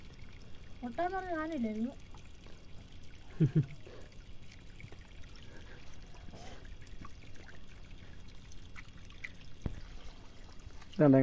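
Water pouring and trickling as fish are washed outdoors, a faint continuous splashing under people talking nearby.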